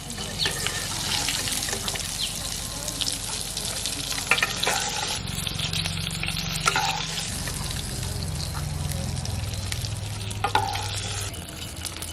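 Shrimp fritters frying in oil, a steady close crackling sizzle that runs throughout, with a few clinks and scrapes and a low rumbling hum underneath.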